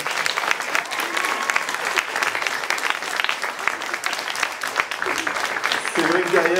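A ceremony audience at the Cinécourts en Herbe 2025 school short-film event applauds teachers; dense, loud, sustained clapping throughout, with a brief tonal sound or voice rising near the end.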